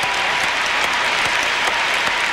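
Arena crowd at a figure skating championship in San Jose applauds a 13-year-old skater, a loud, continuous, dense roar of clapping echoing through the large venue.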